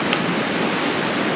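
A river flowing steadily past the bank outdoors, a constant broadband wash of moving water heard up close and fairly loud, with no voices.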